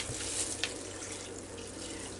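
Kitchen tap running into a measuring cup to collect a cup of water for venison meatloaf stuffing, a steady close hiss of flowing water with no talk.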